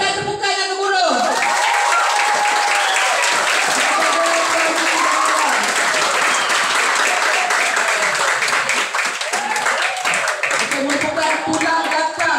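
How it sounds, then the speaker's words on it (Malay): Loud, steady applause fills the room from a school audience at a Form 4 resource centre orientation briefing, with clapping and some crowd voices underneath, sustained throughout. "berikan tepukan yang gemuruh"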